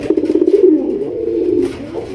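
Pigeons coo close by in a loft, giving low, throaty rolling calls in a few pulsing bursts that swell and fade.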